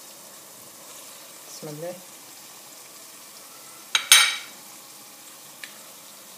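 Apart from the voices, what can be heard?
lamb meat frying with onion in a pot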